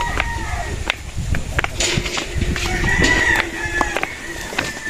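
Battle stag roosters crow and cluck at close range, with overlapping calls over a busy farmyard background and a few sharp knocks.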